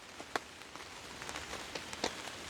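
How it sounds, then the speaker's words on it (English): Rain falls on a river and a tarp by a beach, a soft continuous patter with scattered sharper drops tapping on the tarp, heard faint and close with no talking. "you should be able to see all the water splashing with the rain"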